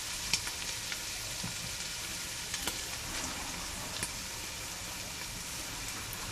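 Mussels frying in a pan while cooking Filipino-style mussel pasta, giving a steady, close hiss of sizzling oil with scattered sharp pops and splatters throughout.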